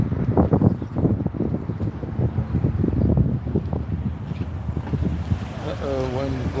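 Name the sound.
wind blowing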